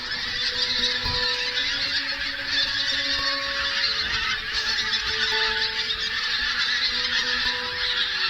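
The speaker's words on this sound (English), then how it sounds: "here's more geese on the move." Flock of geese honking in flight over the Scottish Borders, many overlapping calls repeating steadily over a constant breezy background, fairly near and clear.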